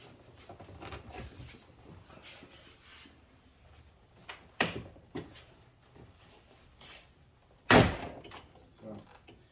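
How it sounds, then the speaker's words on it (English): The door of a BMW X6 with a broken lock linkage is worked open by hand. Clicks and knocks of the latch and panel come up close, then a loud sharp clack near the end, under quiet talk. "now we have the door open."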